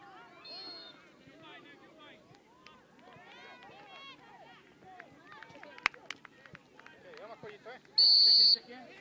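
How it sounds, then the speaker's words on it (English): A referee's whistle at a boys' under-12 youth soccer cup match gives one loud, sustained shrill blast near the end, following a stretch of crowd noise and spectator chatter. "So there's a whistle."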